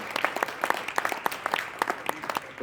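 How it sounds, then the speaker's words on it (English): Convention crowd applause during a ten-year retrospective event, with distinct individual claps and a few louder sharp hand slaps standing out over a steady mass of clapping from a moderately sized audience. "another round of applause for them"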